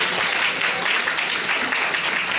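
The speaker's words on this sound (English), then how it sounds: "So give a hand clap or applause to everyone that came up here." Steady, loud applause from an audience at an open-mic style gathering, a continuous dense clatter of many hands clapping throughout.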